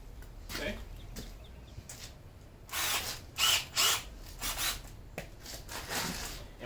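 A power drill bores small one-eighth-inch holes through the side of a plastic 5-gallon tub, with several short whirring bursts separated by quieter pauses, close and fairly loud.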